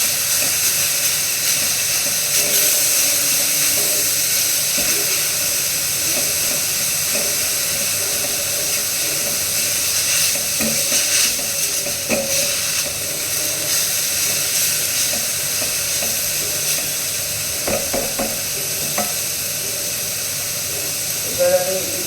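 Milk heats in a pan over a high flame while being stirred, a steady loud hiss with scattered faint scrapes and knocks, a voice speaking now and then.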